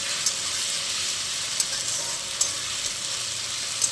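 A paste of ginger, garlic, chili and onion fries in a pan with a dense, even hiss, a close, continuous sizzle with a few faint ticks of stirring.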